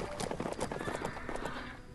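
Rapid clip-clop of a galloping horse in the Bibi & Tina horse farm video game, quick rhythmic hoofbeats close up and fairly quiet, running continuously.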